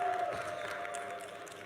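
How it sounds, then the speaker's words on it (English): A crowd at a startup competition grand final applauds the bronze-place winner, a brief burst of clapping and light cheering at moderate distance, with a faint tonal hum running underneath. "Round of applause."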